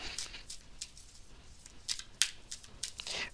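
Tarot cards being shuffled by hand, giving soft papery riffles and light slaps in short, irregular bursts, faint and close, with no talk.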